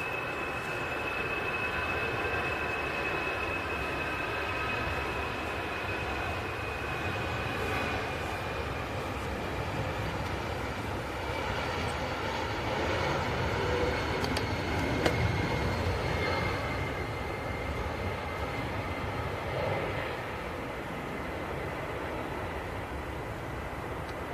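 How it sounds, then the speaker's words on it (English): A heavy Boeing 787 Dreamliner taxiing out at Manchester Airport, a steady broad jet-engine roar with a faint high whine, heard from a distance and holding at a constant level throughout with no talk. "We've also got a heavy aircraft on the taxi out as well."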